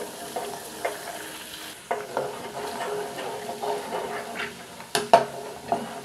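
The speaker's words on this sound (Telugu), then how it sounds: "నెయ్యిని ఖచ్చితంగా ఎర్రగా కాసుకోవాలి." Ghee heats with fenugreek seeds in a pan, a soft bubbling sizzle with intermittent clinks and stirring scrapes, close and moderately loud.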